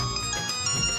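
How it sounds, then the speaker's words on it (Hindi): A mobile phone ringtone plays steadily at moderate volume as a sustained tonal melody with no voices, ringing from a comedy-drama scene. "अरे ये तो सोने का फोन है"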